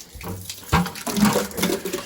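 Water runs from a small hose into a bucket while a flooded steam boiler's automatic water feed valve is drained, splashing and gurgling up close and loud against a low background hum.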